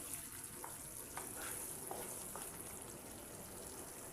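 Curry masala for a stuffed brinjal curry simmering and frying in oil in a pan, giving a steady, faint, continuous sizzle with a few soft stirring scrapes and no talk.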